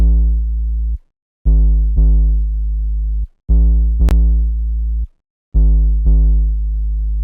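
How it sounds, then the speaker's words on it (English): Pure sine-wave synth bass built in Serum from the sub and both oscillators, playing a loud, steady low pattern of held notes separated by short silent gaps, with one brief click partway through. "next to that we have this bass, which I'm making in Serum"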